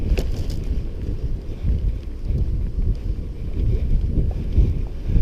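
Gusty wind buffets the microphone on a wet afternoon at Lowry's lake, a low rumbling roar that swells and dips continuously up close, with no talk.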